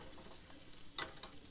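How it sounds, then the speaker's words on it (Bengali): Chopped onion and green chili frying in a pan give a soft, faint sizzle with light stirring, and a brief louder scrape about midway. "পেঁয়াজ কুচি আর এই লঙ্কাটা, কাঁচা লঙ্কাটা একটু ভাজা ভাজা হয়ে যাবে সামান্য"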